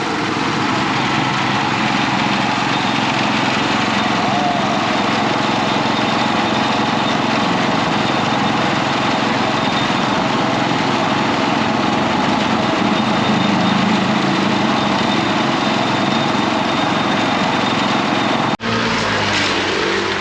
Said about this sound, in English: So he has to start his engine first,